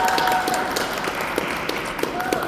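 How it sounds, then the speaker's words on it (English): Fans at a comic and pop culture convention applaud a film's cast and director after a Q&A, steady moderate clapping with scattered sharper claps and faint crowd voices underneath. "Will you give the team a big round of applause for being with us today?"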